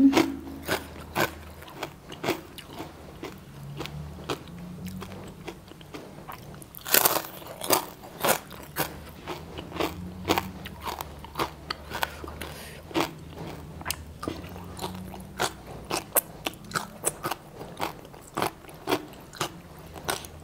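Crispy pork, Thai moo krob, is bitten and chewed close up in a long run of loud, sharp crunches at an irregular chewing rhythm.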